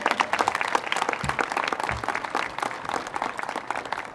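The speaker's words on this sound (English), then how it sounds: "Friends, give yourselves a round of applause." A crowd gathered at a library grand opening applauds with dense, lively clapping, loud and sustained across the whole stretch with a few louder claps near the front.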